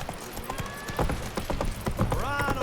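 Horse hooves clip-clopping at a quick pace in the video game The Witcher 3, rhythmic and close, with a brief whinny and a voice in the background.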